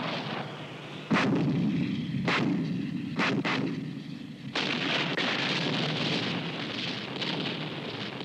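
An 81mm mortar fires in a rapid series of five loud, heavy booms, each with a long rumbling tail, at irregular intervals against a dense, constant background roar; no one speaks.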